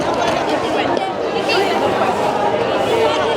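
A crowd of devotees murmurs at the Jejuri temple on a Tuesday, a dense, steady babble of many voices close around, with no single voice standing out.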